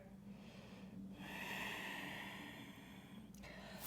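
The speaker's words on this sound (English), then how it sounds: "Take one more deep inhale breath here." Deep, drawn-out inhale during a yoga session, a soft airy rush that swells after a short quiet gap and sustains for a couple of seconds before tapering, faint and close, no voices.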